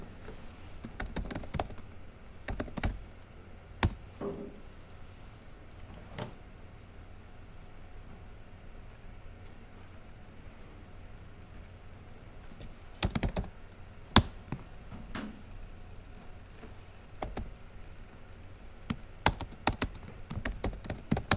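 Sparse, clicky computer keyboard typing while code is written, with quiet bursts of keystrokes separated by pauses over a low background hiss.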